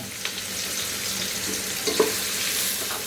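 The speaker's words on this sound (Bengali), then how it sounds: "আমি এর মধ্যে এক কাপ পেঁয়াজ কুচি দিব দিয়ে এর সাথে এটাকে একটু ভেজে নেব" Chopped onions fry in a pan for chicken khichuri, giving a soft, steady sizzle with a few faint clinks and stirring scrapes and no voices.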